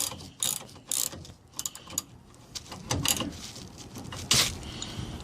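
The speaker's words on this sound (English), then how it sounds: "I'm going back to the back again and tighten these up." A hand ratchet tightens bolts on nerf bars on a 1999 Toyota Tacoma, giving bursts of quick clicking strokes with short pauses between them, close and fairly quiet.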